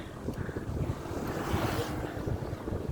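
Steady wind roaring past the microphone while cycling across flat countryside on a long ride through Laguna and Nueva Ecija, a continuous loud rush with no talk.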